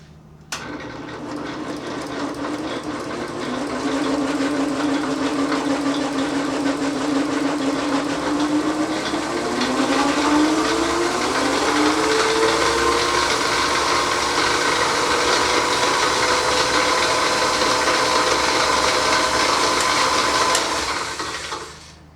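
A wood lathe runs with no tool touching the work: a steady, close motor whir that rises in pitch as it comes up to speed, holds for about twenty seconds, then cuts off at the end.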